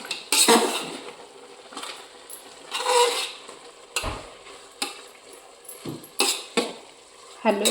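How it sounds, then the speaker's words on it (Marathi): Carrot halwa with almonds being stirred in a pan, repeated clanking scrapes of a spoon against metal in an uneven rhythm, close and fairly loud over a faint background, with no speech. "आणि हलवून घ्यायचं आहे"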